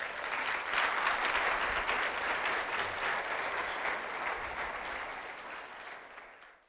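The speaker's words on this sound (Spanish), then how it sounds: "Dale palmas al Señor." A church congregation claps for the Lord in a sustained, dense burst of applause that holds steady for several seconds before fading out at the end, with no speech over it.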